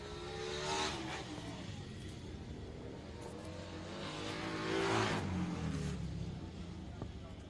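Motorcycles, including a Royal Enfield, racing on the Greenfield dirt oval, heard as engines swelling and fading as bikes pass at a distance, under an announcer's commentary.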